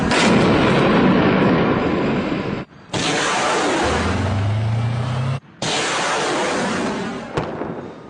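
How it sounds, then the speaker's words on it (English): Heavy, sustained rumbling blasts of distant gunfire and coalition airstrikes in the Syrian civil war fill the air, broken by two brief gaps, with a low droning tone of overhead drones in the middle. "We've heard the sound of gunfire, drones overhead, and coalition airstrikes every few minutes."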